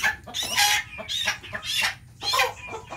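Free-range chickens cluck close by in repeated bursts, several rhythmic clucking calls spaced across a few seconds over a quiet outdoor background, with no talking.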